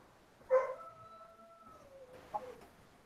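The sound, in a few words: wolves howling in the background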